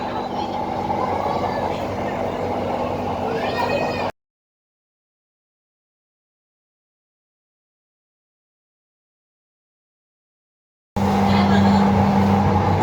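Inside a Palembang LRT light rail train, a steady mechanical hum and rumble carries under people talking. A long stretch of complete silence breaks the ride noise before it returns louder.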